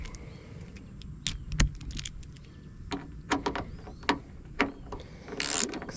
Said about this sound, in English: I'm going to torque it pretty good though.